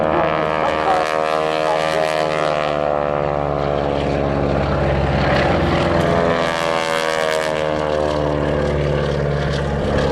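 An aircraft flying at the Waddington air display makes a loud, continuous propeller-engine drone with a strong harmonic hum that swells slightly midway and stays steady for the full stretch.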